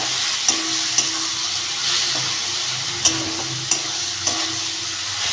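Chengo fish frying with onions in a pan, a loud steady sizzle broken by several sharp, regular knocks of a spatula against the pan as it is stirred.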